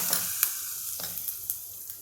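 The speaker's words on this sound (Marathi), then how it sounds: "फोडणी झाली माझी फोडणी तयार झाली ही फोडणी मी तुमच्यासमोरच याच्यामध्ये" Hot spice tempering (phodni) for a vegetable dish in a Maharashtrian kitchen, a close crackling sizzle with repeated sharp spatter pops and light stirring clicks, no voices.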